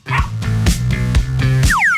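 A dog whimpers and yips in a quick series of about six loud, close, pitched yelps at a steady rhythm, ending with a couple of rising squeaky whines.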